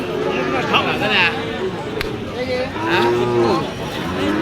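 Sahiwal bulls low at a cattle market in Ambari, Dinajpur, giving several loud, drawn-out moos close by while people talk and a crowd murmurs in the background.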